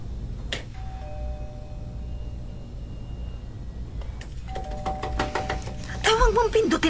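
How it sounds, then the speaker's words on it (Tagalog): A doorbell chimes a couple of times against a steady low hum in a TV drama scene, followed by some knocking and a brief voice near the end. "Huwag mong pindutin ang doorbell."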